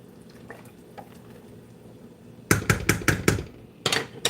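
A spoon stirs spaghetti in a pot of boiling water: a soft simmer gives way to loud bursts of clattering scrapes and knocks against the pot, close by.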